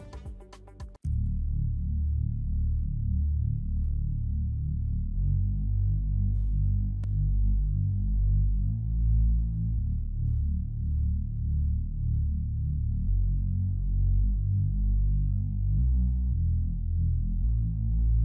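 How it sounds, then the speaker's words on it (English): A deep, thick synth bass from the Beautitude bass preset plays a rolling sustained line with warm low tones, loud and continuous after a brief bright burst at the start, in an Afrobeats beat. "we are using the Beautitude preset under the bass category, and it sounds like this"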